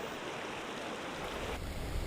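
Water runs through a stream channel in Barangay Kulalo, Sitio Baluyos, carrying mine tailings toward the Abra River, a steady broadband rush heard close and unbroken.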